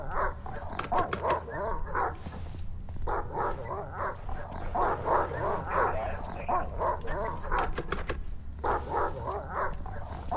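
A dog barks repeatedly in the Silent Hill Downpour video game, quick sharp yips and bow-wows in bursts over a steady low ambient drone, with a person speaking quietly underneath.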